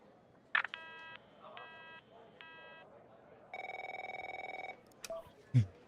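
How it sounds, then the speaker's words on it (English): In the video game The Operator, a telephone rings in three short repeated bursts, then gives a longer sustained electronic tone and a few clicks, all close and clear. "My phone's ringing off the hook here."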